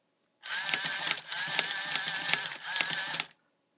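The small motors inside a Thinkway Toy Story Mr. Potato Head toy whir in three close bursts with short gaps between them, with faint mechanical ticks running through each burst.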